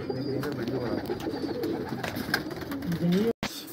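Pigeons coo repeatedly and close by in a pigeon loft, low throaty rolling calls overlapping one another, with someone talking over them.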